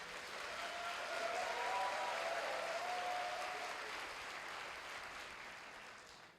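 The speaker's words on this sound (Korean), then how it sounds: "이창호 학생에게 큰 박수를 부탁드립니다" An audience at a university matriculation ceremony claps for a student speaker, soft and distant, with steady applause that swells and then fades over several seconds.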